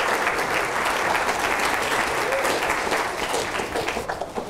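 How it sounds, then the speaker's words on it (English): Lecture audience breaks into a round of steady, full applause, many hands clapping at once, holding level and then thinning slightly toward the end. "Round of applause for Eddie and Martin."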